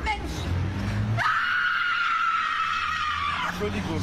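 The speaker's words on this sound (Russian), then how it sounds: "Охуеть, она заорала." A woman in a TikTok prank with a mask lets out a long, piercing scream that holds steady for about two seconds, loud and close, with excited voices talking before and after it.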